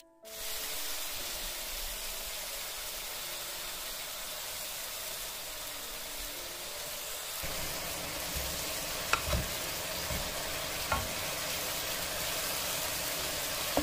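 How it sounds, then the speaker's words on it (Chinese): Pork belly browns in a hot pan, giving a steady, loud sizzle and frying hiss throughout, with a few clinks from stirring near the end. "继续对五花肉上色。"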